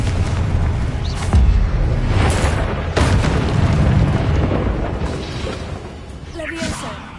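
Repeated booming spell blasts from the Hogwarts Legacy video game, loud and close with whooshing bursts, dense and overlapping throughout, with a voice shouting spell names over them.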